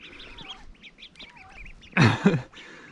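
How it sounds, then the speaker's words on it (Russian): A mother duck and her ducklings quack and peep while being fed at the Gulf of Finland near Komarovo, with a chorus of thin chirps and a couple of loud close quacks. "Офигеть, я кормлю уток."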